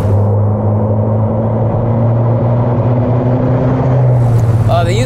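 A 1994 Toyota Pickup with the 22RE four-cylinder engine drives along a road, a steady low engine drone and road rumble running continuously, loud and close, with faint chirping near the end.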